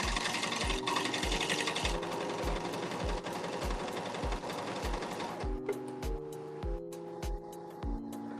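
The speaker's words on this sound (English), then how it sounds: "I'm going to go over this stitch with a zigzag stitch." A sewing machine runs a zigzag stitch over knit fabric, its needle thumping in a steady even rhythm up close, with a mechanical whir beneath that shifts tone partway through.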